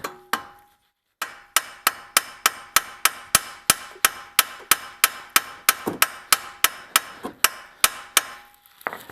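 Metal hammer strikes on a part of a 2002–2006 Toyota Camry V6 transmission, driver side, during repair: about twenty sharp, evenly spaced blows, loud and close, after one short opening hit and a brief pause.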